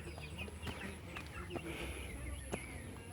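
Live chickens clucking nearby outdoors, a scattering of short clucks and calls at irregular intervals over faint background noise, with some quiet talk mixed in.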